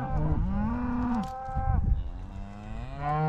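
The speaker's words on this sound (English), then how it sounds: "these cattle are gonna go up this way" Cattle being moved on a ranch low and moo loudly, several overlapping drawn-out calls close by with no talk.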